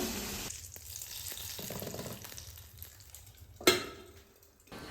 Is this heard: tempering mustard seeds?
yes